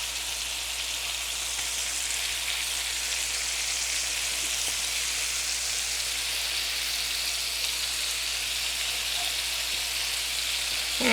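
Scallops searing in a hot pan with smoked oysters and brisket nearby, giving a steady, even sizzle that holds without letup through the whole stretch and rises slightly at the very end, with no one talking.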